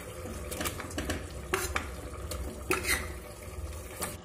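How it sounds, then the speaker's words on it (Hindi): Washed chicken pieces being added to cooked masala in a pan and stirred in: continuous scraping and clattering of a utensil against the pan with a soft wet sizzle underneath, several sharper clanks standing out, close and moderately loud. "ये देखिए, अब डालेंगे इसके अंदर चिकन जो हमने वॉश कर रखा है।"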